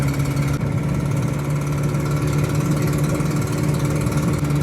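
A Renault 6 engine runs at a steady drone with a constant raspy hum from a badly leaking exhaust manifold, heard close and continuous without pause.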